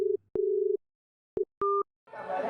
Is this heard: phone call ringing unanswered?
yes